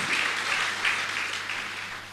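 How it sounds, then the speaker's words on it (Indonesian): A church congregation applauds and cheers in a steady, dense wash of clapping that holds for the whole stretch and eases slightly toward the end. "sorak-sorai yang lebih meriah lagi"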